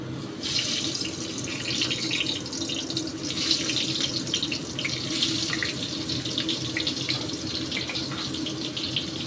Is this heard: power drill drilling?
no